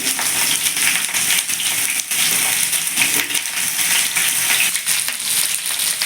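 Ridge gourd and potato pieces dropped into hot oil with tempering spices for a Bengali jhinge alu posto, a loud, dense, continuous crackling sizzle heard up close with no talking.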